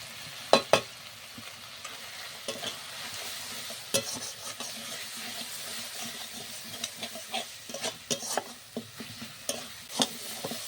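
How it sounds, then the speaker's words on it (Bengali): Turmeric, salt, Kashmiri chilli and cumin powder are cooked down in oil in a pan, with a soft continuous sizzle broken by scattered scrapes and taps of a spoon stirring against the pan. "মশলাটা ভালো করে কষিয়ে নিয়েছি মশলা থেকে তেল ছেড়ে দিয়েছে"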